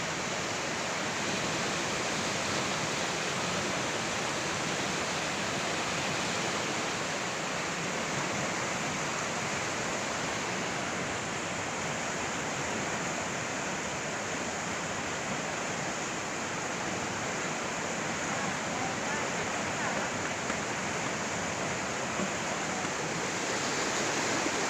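Water pours over the breached Sukaraja embankment dam in a steady, loud, continuous rush, with no pauses or voices.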